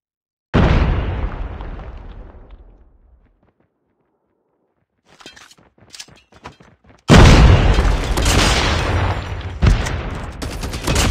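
In Call of Duty Mobile, a grenade explodes loudly and rumbles away into silence. Scattered footsteps and shots follow before a sustained barrage of heavy gunfire and blasts takes over.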